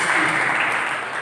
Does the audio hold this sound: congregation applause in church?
yes